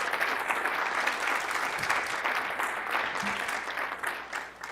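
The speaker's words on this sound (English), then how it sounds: "Let's give them another big round of applause." An audience at a policy event on America and the world applauds steadily, a dense, even wash of clapping that holds for the whole stretch and tapers slightly at the end.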